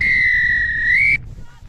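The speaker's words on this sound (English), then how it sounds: "And there's the final whistle from Sybil Levine" A referee's final whistle ends a women's Division 2 rugby match between Milwaukee Scylla and South Buffalo, a single loud, piercing blast held a little over a second, then cut off sharply to crowd ambience.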